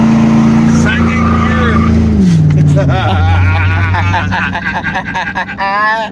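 A Corvette engine revs hard in second gear during a burnout, a loud, steady roar that drops in pitch partway through, with voices talking over it.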